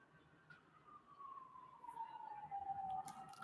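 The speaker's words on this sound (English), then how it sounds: "lots of sirens on a Saturday night" A distant emergency siren wails in New York City on a Saturday night, a faint, slowly falling tone that grows a little louder over low street hum.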